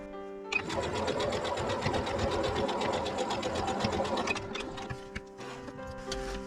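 A sewing machine stitches the corners of a log cabin style patchwork block, running steadily and close for about four seconds with a rapid mechanical chatter, then stopping and giving a few short, scattered clicks.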